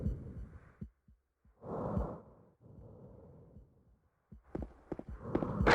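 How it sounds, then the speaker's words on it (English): Heavy breathing effect from Silent Hill 2: Restless Dreams, slow rasping inhale and exhale puffs with gaps between them, close and fairly quiet, ending in a few sharper clicks. "Worst heavy breathing sound effect yet."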